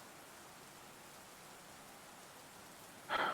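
Rain falling at night in a forest on an island, a soft steady hiss of drops throughout, with a sharper brief spatter near the end.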